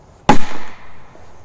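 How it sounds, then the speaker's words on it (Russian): A Spanish Cracker 4 firecracker goes off in a single sharp, loud blast, followed by a rumbling echo that fades over about a second. "Взрывается как Корсар 2. Так что не советую покупать Spanish Cracker 4."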